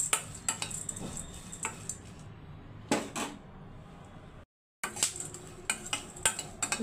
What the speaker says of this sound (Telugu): వీటిని కూడా కొంచెం వేపుకొని బౌల్లో వేసేసుకోవాలి